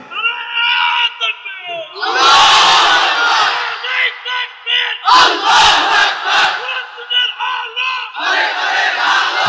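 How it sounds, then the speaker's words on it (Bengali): At a religious rally, a large crowd chants a slogan in loud, surging bursts, with roaring massed voices rising and falling in waves between brief pauses. "এখন একটা স্লোগান দেন"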